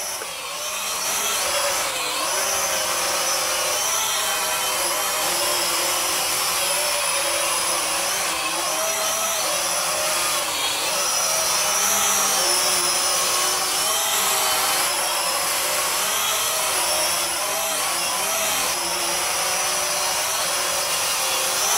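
Holy Stone HS140 toy drone with brushed motors flying around a living room indoors, giving a steady, loud, high-pitched whine that holds for the whole stretch with slight wavering as it maneuvers.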